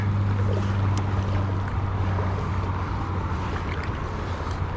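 Paddling a Teton Angler 100 kayak on a lake: a steady low rumble of water and wind noise against the hull, with faint splashes from the paddle strokes and no talking.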